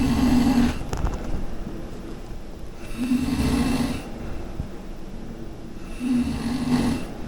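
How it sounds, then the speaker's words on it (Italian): Loud, close snoring in a hostel common room, three long rasping inhales spaced about three seconds apart with quieter breathing between, and no talk. "è impossibile dormire qua, c'è gente che russa da morire per tutto il tempo"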